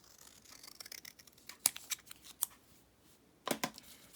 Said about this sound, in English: What you're going to do is just cut it in half, the wide way.